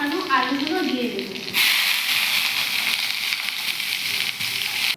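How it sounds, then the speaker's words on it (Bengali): Potatoes coated in salt and turmeric hit hot oil tempered with whole cumin and green chillies, setting off a sudden loud hiss that settles into a steady, close sizzle. "এর মধ্যেই আমি নুন হলুদ মাখানো আলুগুলো দিয়ে দেব।"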